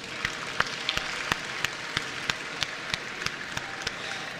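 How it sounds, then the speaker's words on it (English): A job bootcamp audience gives volunteers a round of applause, with sparse, evenly spaced sharp claps over a faint steady background, fairly quiet and distant. "Let's give them a round of applause."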